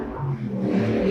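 A motorcycle passing outside during an acting class gives a short, muffled engine drone that swells slightly as it goes by.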